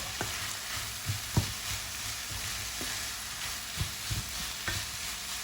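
Potato and leek filling is stirred and mashed in a pan, with soft repeated scraping thuds from the utensil at an irregular pace over a steady background sizzle.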